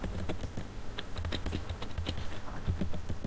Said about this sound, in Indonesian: Di sini kita bisa ketikkan perintah